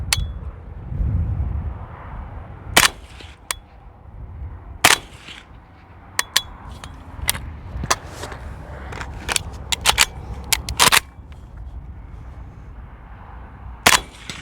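A PSA KRINK rifle in 300 Blackout is fired at a target 100 yards away on a windy range. Several sharp, loud cracks come at uneven intervals among smaller clicks and handling noises, over a low rumble of wind.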